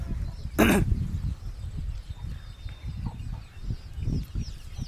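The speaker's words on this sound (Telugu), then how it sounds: "ఇక్కడ చూస్తున్నారు కదా టర్కీ కోడి" A turkey hen gives one loud, harsh cluck, followed by low, soft clucking and murmuring sounds close by.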